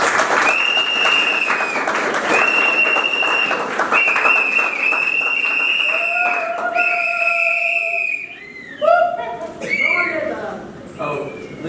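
A wedding crowd claps steadily and loudly, with shrill whistles and ululating voices ringing out over the applause.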